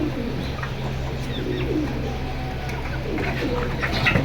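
Pigeons from a collection coo softly and repeatedly over a steady background hum, with a few faint chirps near the end.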